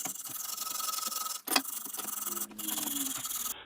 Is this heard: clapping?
no